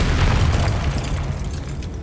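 A Confringo fire spell blast from Hogwarts Legacy, heard as a loud, sustained booming rumble that stays heavy and dense for a couple of seconds, then tapers slightly.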